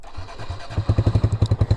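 A Honda Grom motorcycle engine starts and settles into a rapid, even idle, close by, with a brisk regular thumping after a brief cranking start and no talk.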